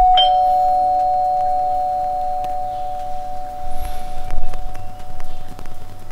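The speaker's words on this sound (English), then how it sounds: "double check if it was indeed the doorbell" A doorbell chime rings once at the start, its clear tone lingering and fading over several seconds while faint background rumble follows.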